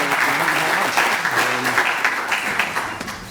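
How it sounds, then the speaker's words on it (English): A room full of people gives a final large round of applause at the close of a talk, dense steady clapping that stays loud throughout before tapering slightly. "One more large round of applause for Peter,"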